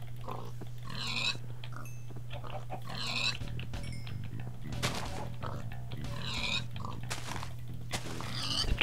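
Pigs in the game Minecraft give short grunting oinks, repeating at a steady pace several times over a low hum, while someone talks quietly in between.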